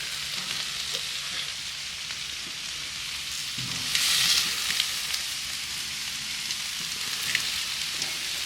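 Steak sizzling on a Blackstone griddle, a steady close crackling fry with brief louder spitting bursts, no talking.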